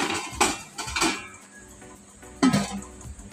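A few light metallic clinks and clatters ring out as a lid is set onto a pot of mutton cooking at home, quiet and close, with short pauses between the knocks.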